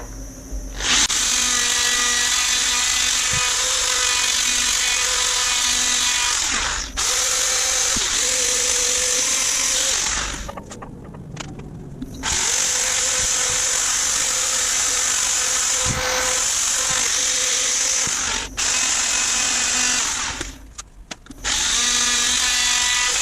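Wooden bowl turned from a floorboard being sanded on a lathe at 180 grit, a loud steady motor whine with harmonic hum, interrupted by several short pauses and shifts in pitch as the sander presses and lifts.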